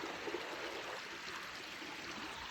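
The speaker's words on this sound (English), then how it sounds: "I would call this a babbling brook." A babbling brook flowing into Blackwell Creek along a wooded hiking trail makes a continuous close trickling, gurgling rush with no voices.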